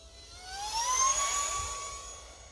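A UMX Viper 30mm RC micro jet runs at full throttle, a loud, sustained turbine whine with a rising, sweeping high tone that peaks midway and then eases slightly, heard close with no voices.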